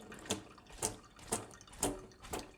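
Fresh basil leaves being washed in a bowl of water for Genovese pesto, heard as five evenly spaced splashing swishes about half a second apart, close and moderately quiet.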